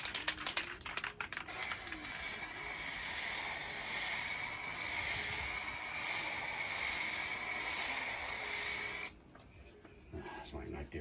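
A Halfords aerosol paint can fitted with a nozzle swapped from another can hisses in one long, steady, loud spray for about nine seconds, then cuts off abruptly, leaving faint background sound.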